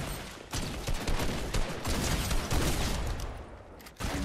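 Heavy video game gunfire in a close, loud and continuous burst of rapid shots with brief gaps, filling the whole stretch.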